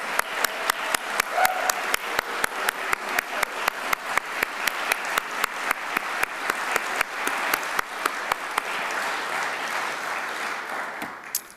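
Audience applause at a distinguished alumni leadership awards ceremony, a steady round of many hands clapping with a regular pulse that holds for about eleven seconds, then cuts off abruptly.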